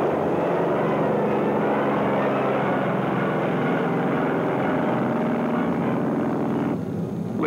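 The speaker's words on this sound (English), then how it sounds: "First, the F-6F." F6F fighter plane's propeller engine, a loud continuous droning roar holding steady for several seconds before briefly dipping at the end, with no talk over it.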